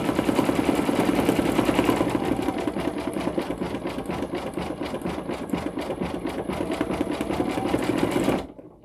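An embroidery machine stitches a design onto a hooded towel with a rapid, steady mechanical chatter and rattle, loud and close, running continuously for about eight seconds before stopping abruptly.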